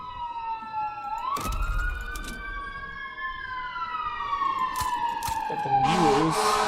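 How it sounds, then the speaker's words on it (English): A fire truck siren wails nearby, its rising and falling tone sweeping steadily, with a short horn blast and brief voices partway through. "That's a fire truck"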